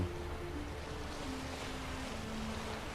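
A sailboat moves across the sea in The Witcher 3 video game, heard as a steady wash of waves and wind with a low, continuous hum under it and no voices.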